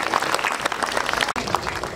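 A crowd at a music industry award ceremony applauds steadily and loudly, a dense wash of clapping that holds for about two seconds with a brief drop near the end.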